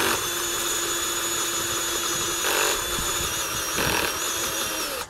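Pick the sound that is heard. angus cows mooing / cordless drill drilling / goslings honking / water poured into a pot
cordless drill drilling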